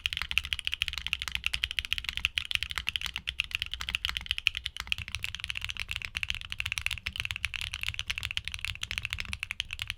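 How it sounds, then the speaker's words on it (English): Rapid, continuous clacky keystrokes from a mechanical keyboard, close and steady, with bright crisp clicks and no talking. "These switches feature a bright, clacky sound profile and a remarkably smooth push feel."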